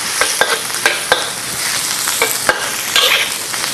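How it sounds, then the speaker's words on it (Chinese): Beef and vegetables are stir-fried in a hot wok, giving a loud, steady sizzle broken by sharp scrapes and clacks of the spatula tossing the food. "我们把它稍微略炒一下。"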